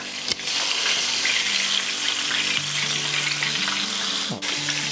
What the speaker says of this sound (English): frying these two pieces right here